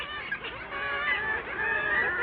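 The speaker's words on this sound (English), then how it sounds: "These kittiwakes seem to call their name forever" Kittiwake colony at a seabird cliff by the surf, many birds calling at once in a dense, continuous overlapping clamor of harsh, nasal cries, close and steady throughout.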